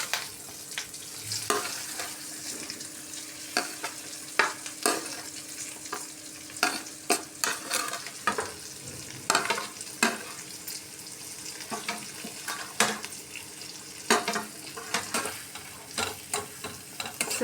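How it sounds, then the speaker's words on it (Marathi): Stuffed okra (bharleli bhendi) frying and being stirred in a kadhai, a steady close sizzle with repeated scraping clicks of a spatula throughout, no talking. "आता भेंडी टाकून घेऊयात कढईत।"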